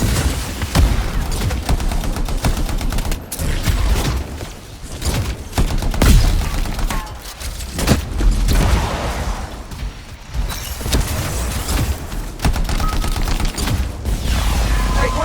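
A heavy gun in the game Anthem fires against Dominion troops in loud, repeated bursts of rapid fire, separated by brief pauses and sustained across the whole stretch.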